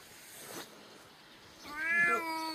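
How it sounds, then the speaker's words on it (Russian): A kitten meows indoors: a faint, soft rustle first, then one clear, rising mew near the end, close by and fairly quiet against light background hiss. "Вот он котеночек, познакомимся."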